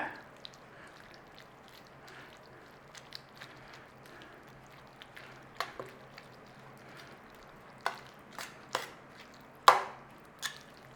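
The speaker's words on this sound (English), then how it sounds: "Stirring your cream cheese." A spoon stirring a block of cream cheese in a hot, steaming pan, quiet soft scrapes and squishes with scattered sharper clicks that grow louder and more frequent toward the end.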